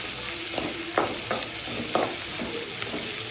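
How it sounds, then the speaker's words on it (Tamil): Sliced onions frying for mutton gravy, a loud continuous sizzle punctuated by several rhythmic spatula strokes against the pan, near and without speech. "நல்லா வதக்குங்க."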